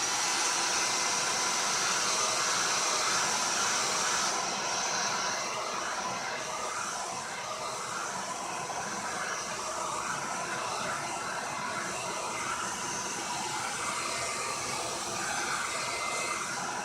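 An old hair dryer blows continuously with a steady, loud airy whoosh and motor hum, running unbroken for a long stretch with no voices.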